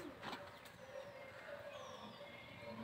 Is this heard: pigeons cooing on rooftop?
yes